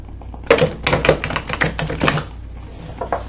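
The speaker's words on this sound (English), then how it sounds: "I like to shuffle each deck 4 times" A deck of cards is shuffled up close, giving a quick run of crisp riffling clicks and flutters that end in a soft tap, with no voices.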